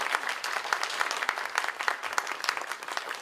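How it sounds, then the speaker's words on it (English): A room full of people at a school board meeting claps steadily for a few seconds, dense and even, with no voices over it. "One more round of applause."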